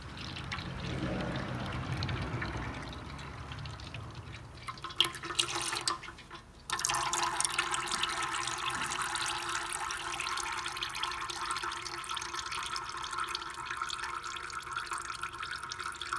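Engine oil running out of the drain plug hole of a Can-Am Maverick 1000 side-by-side, a steady close liquid trickle and pour with a brief clatter partway through.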